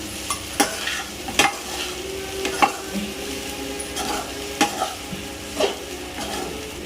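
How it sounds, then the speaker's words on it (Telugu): Jeera rice with cumin seeds and green chilies is stirred and tossed in a pan, giving repeated scraping clatters of a spoon against metal over a soft frying sizzle. "ఎక్కువ బాగా కలపెట్టుకుంటున్నా రైస్ అంతా జీలకర్ర పచ్చిమిర్చి అన్నీ పట్టేటట్టుగా"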